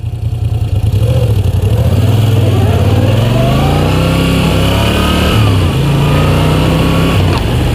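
A 2016 Moto Guzzi V9 Bobber's engine revs loud and close, its low throbbing note rising and falling steadily throughout with no talking.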